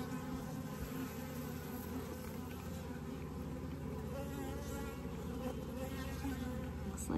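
Honey bees buzz in a dense, steady drone inside an opened Layens horizontal hive, the close, continuous hum of many workers holding level throughout without a break.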